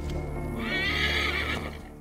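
A horse neighs loudly and close by in the video game Assassin's Creed Origins, one long wavering whinny over soft hoof clip-clops and a low game background.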